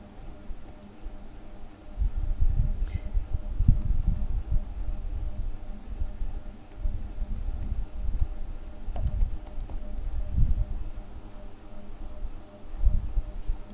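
Typing a Google search on a computer keyboard, heard as soft, irregular clusters of key taps near the mic over a low background hum, with no voices.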